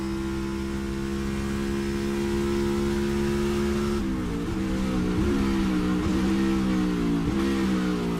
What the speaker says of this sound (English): 4 downshifts, so down to first gear